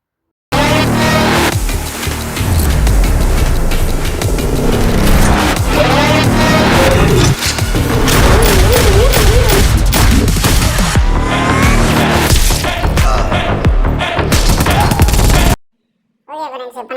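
Rapid bursts of gunfire in the mobile game Indian Bike Driving 3D, mixed with vehicle and tire-squeal effects, loud and continuous, with a voice talking over the game sounds.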